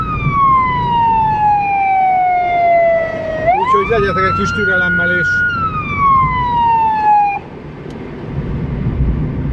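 An emergency vehicle siren wails in Budapest, a long falling tone that jumps up and then sweeps down again, loud and close, while someone talks over it in Hungarian.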